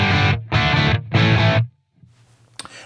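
Crunchy, overdriven electric guitar through the MVave Tank-G amp modeler, heard as three loud strummed bursts in steady rhythm, then a quiet tail with a faint click near the end.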